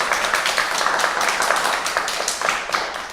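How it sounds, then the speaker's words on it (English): An audience claps together at a presentation on Black doll art, a steady patter of many hands that holds at even loudness throughout, with no voices heard over it. "Great, let's clap."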